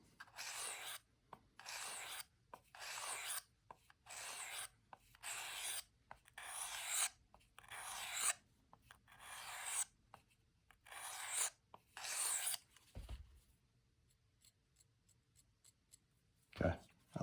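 A knife blade is drawn repeatedly across a sharpening stone in short rhythmic strokes, about a dozen raspy scrapes close up, followed by a brief pause and a couple of soft knocks.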